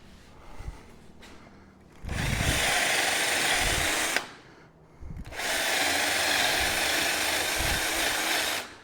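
A power drill bores a hole, probably into wood, in two long loud bursts with a short pause between them and a few faint clicks before the first.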